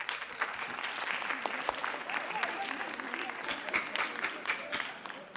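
A comedy club audience at the Comédie Saint-Roch in Avignon bursts into sustained clapping, crisp individual claps standing out within a lively crowd ovation that runs for over five seconds, with a few scattered voices mixed in.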